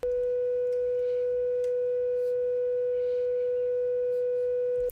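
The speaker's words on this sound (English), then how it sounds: "The oscillator essentially just adds a sine wave to your sound." A steady, pure sine wave tone from a plugin oscillator holds at one pitch for about five seconds, constant and unwavering, with no other sounds.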